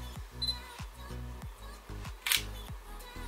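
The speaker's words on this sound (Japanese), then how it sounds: "早速一発目のシャッター切ってみます。" A Sony α6600 mirrorless camera's shutter clicks crisply several times in a quick, fairly regular series, close to the microphone and quiet, with no talking.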